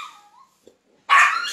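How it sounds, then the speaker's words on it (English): Dogs barking: a single loud, close, sharp bark burst arrives near the end after a quieter stretch of faint whining and near silence. "I don't want them keeping up my neighbors by barking"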